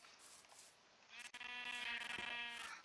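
A single Minecraft sheep lets out a long, wavering bleat, close and clear, after a brief quiet moment.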